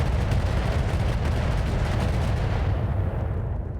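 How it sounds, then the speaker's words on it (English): Missiles fire in a video game as a continuous heavy barrage of deep booming blasts that roll together into one loud roar, easing off slightly toward the end. "I may as well just fire even more missiles"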